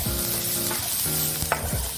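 Minced ginger frying in a little oil for dhaba-style tadka dal, an up-close hissing sizzle with a few quick stirring scrapes and a brief clink, no speech.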